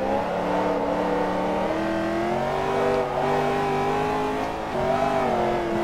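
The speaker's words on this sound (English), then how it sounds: "Whoa! That wheel spin, okay." A car revving hard with its wheels spinning in the racing game Forza Motorsport 3 on a high-speed track, a loud, continuous engine whine rising and dipping in pitch for several seconds, with no voices.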